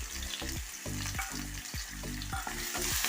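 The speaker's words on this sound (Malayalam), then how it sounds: "വെളുത്തുള്ളിയും ഇഞ്ചിയും കൂടെ പേസ്റ്റാക്കിയതാണ് അതുകൂടെ ഇട്ട് കൊടുക്കുക" Garlic-ginger paste and chopped green chili fry in hot oil for a Kerala mezhukkupuratti. A dense sizzle runs throughout, broken by quick, regular stirring strokes.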